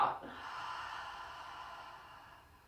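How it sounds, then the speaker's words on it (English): A person takes a full breath in, then lets out a long, soft exhale that trails off slowly, close and quiet with no talking. "let's take a full purposeful breath in and a long breath out"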